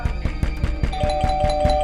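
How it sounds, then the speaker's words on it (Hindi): A doorbell rings repeatedly in quick rhythmic pulses, followed by a sustained ding tone, loud and close. "घंटी भी दे रहा है, खटखटा भी रहा है।"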